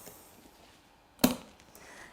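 A lid popped onto a jar of carrots and water being set up for lacto-fermenting, a single short sharp knock in an otherwise quiet moment.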